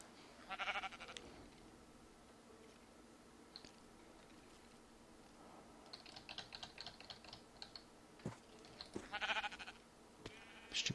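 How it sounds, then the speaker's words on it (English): Minecraft sheep give several close bleats in short bursts, mixed with keyboard typing clicks in the video game, no talking. "Stupid sheep."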